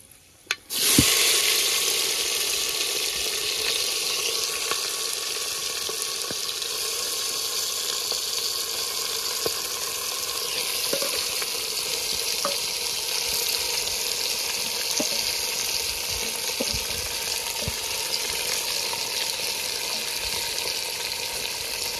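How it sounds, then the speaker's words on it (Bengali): Marinated duck meat hitting hot oil in a clay pot with whole spices, bursting into a loud, dense, continuous sizzle that holds steady with occasional faint scrapes and pops. "এবারে মাখিয়ে রাখা মাংসটা দিয়ে দেবো"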